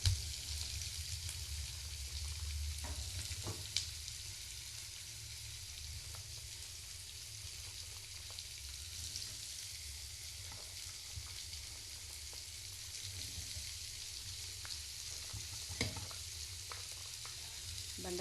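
Okra frying in a pan for a home-style Telugu bendakaya curry, a steady broadband sizzle with occasional soft clicks of stirring, continuous and fairly close, with no talking.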